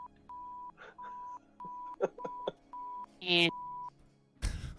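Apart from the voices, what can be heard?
beeping noise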